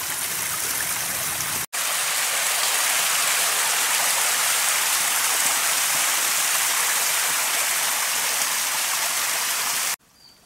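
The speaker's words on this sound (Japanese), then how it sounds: "まだ水音がしています。" Continuous rushing water from a mountain stream along a hiking trail near a river crossing in Fukuoka, loud and close, with an abrupt cut near the start and fading at the end.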